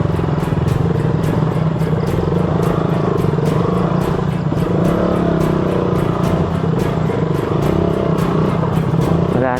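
A motorcycle grinds up a rough, muddy, landslide-damaged mountain road near Mt. Kilang in Calanasan, Apayao. The engine drones loud and close throughout, with rapid rhythmic clattering over a continuous rumble.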